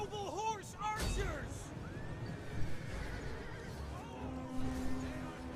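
Horses whinny among mounted archers in a strategy battle game, a clear near neigh rising early, then fainter calls over battle noise and hooves as a voice speaks.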